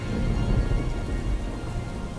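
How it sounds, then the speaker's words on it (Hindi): Heavy rain pours in a dense, steady roar with a deep low rumble beneath it, unbroken for the whole stretch and with no voices. "इस बार तो बारिश थमने का नाम ही नहीं ले रही।"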